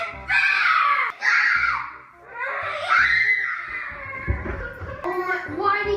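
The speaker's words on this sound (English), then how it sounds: "why do you keep screaming? You've been screaming for the last 30 minutes." A child at home during a game lets out loud, high-pitched screams and shrieking laughter in several bursts, close to the microphone, with short pauses between them.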